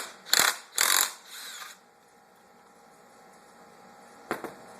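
Impact wrench loosening a 17 mm bolt on a Honda CR80 engine during teardown: two quick loud rattling bursts close by, then quiet with a faint hum before a brief final clank.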